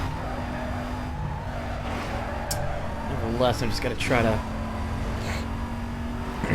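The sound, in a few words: Mercedes-Benz car engine driving in a racing video game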